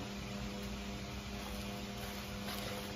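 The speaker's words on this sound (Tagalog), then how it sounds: "tunog ng electric fan" A steady, continuous whirring hum of an electric fan runs without change, fairly close, with no voices.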